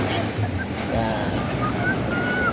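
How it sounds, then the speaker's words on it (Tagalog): Ocean waves wash steadily onto the sandy beach at Agno, Pangasinan, a continuous broadband surf roar with wind buffeting the microphone, loud and close throughout. "laki ng alon oh"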